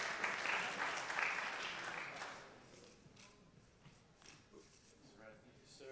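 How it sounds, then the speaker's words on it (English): Polite audience applause at an alumni luncheon, a moderate round of clapping that fades after a couple of seconds into scattered claps and room noise, with people talking faintly. "Thank you for that golf gallery applause. That was very polite."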